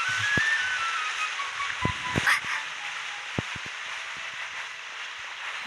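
A whistle in the video game Genshin Impact sounds as a thin, clear gliding tone early on, heard alongside scattered soft thumps and a low hiss, with no talking.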